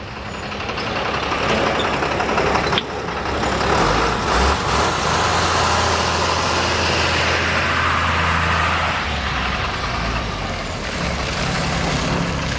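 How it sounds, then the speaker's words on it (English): A big delivery truck backing up, its engine a loud steady rumble that fills the scene, with a low droning tone running underneath and no talk. "the big truck's backing up"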